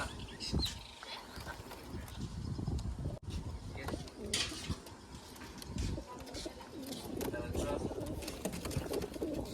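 Pigeons coo softly in a home loft where a pair sits near their chicks, with low murmuring calls spread through the clip beneath steady background noise and a voice talking.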